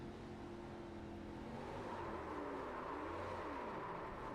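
A racing car engine in the iRacing simulator at Silverstone whines at high revs, its pitch sliding and wavering steadily with no voices.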